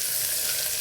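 Curry leaves crackle and sizzle in hot oil for a brief moment as they are stirred, a dense, even hiss that fills the whole short snippet with no voices.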